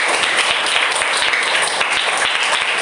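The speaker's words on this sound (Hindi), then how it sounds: "एक बार जोरदार ताली बजेगी तो पहले इन लोगों के लिए।" Loud, enthusiastic applause for schoolchildren, a gathering of people clapping vigorously with distinct individual claps punching through a dense continuous patter, close and sustained.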